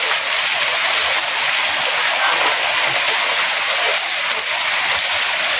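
Continuous rain falls steadily in a village, a dense, even hiss of water with no breaks, loud and close throughout with no voices.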